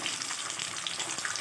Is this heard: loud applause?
no